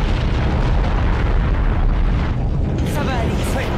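Continuous loud rumbling roar of an erupting volcano with flowing lava in an animated adventure, dense and booming throughout, with a voice shouting over it near the end.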